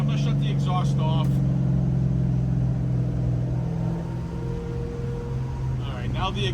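A 1964 Chevrolet Chevelle Malibu engine hums low and steady at close range with its exhaust closed, muffled and quiet, with brief voices speaking at the start and end.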